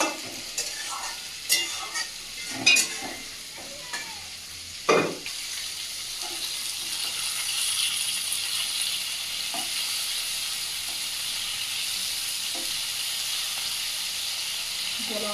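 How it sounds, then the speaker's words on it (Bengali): Bhola river fish being lightly fried in oil in a pan, opening with a few sharp clacks and bumps, then settling into a steady, even hissing sizzle that carries on close and moderately loud. "আমার তো বেশি ভাজলে ভালো লাগে না হালকা ভেজে নেব"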